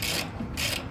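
A ratchet tightens the bolts on a steel VSAT Ka band satellite antenna mount, sounding as two quick bursts of close, crisp clicking.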